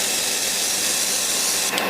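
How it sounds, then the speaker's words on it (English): An airbrush sprays acrylic paint with a continuous close hiss, sputtering briefly near the end. "Now let's spray this with acrylic. Getting some sputter here."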